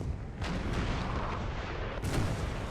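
Artillery fire in a Napoleonic battle game at Auerstedt, dense booming rumble with a few sharper cannon reports standing out, continuous and heavy throughout.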